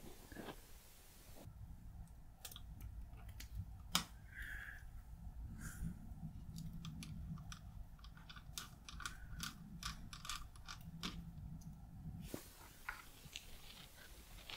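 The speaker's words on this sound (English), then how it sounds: "Remove the M2x3 screw that secures the audio board to the system." Small screwdriver turning an M2x3 screw out of the audio board of a Dell Latitude 3190 2-in-1 laptop, heard as faint, close, repeated ticks and scrapes against a quiet background.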